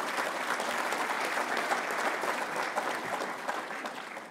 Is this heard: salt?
no